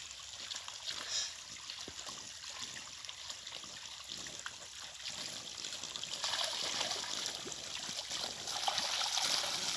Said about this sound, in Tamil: தண்ணி எப்படி பாயுன்னு பார்த்து விடுங்க.